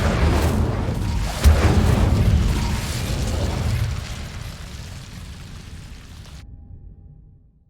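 Spell blasts in Hogwarts Legacy: a few booming explosive bursts, one sharp loud hit near the middle, followed by rumbling debris that slowly fades out to silence.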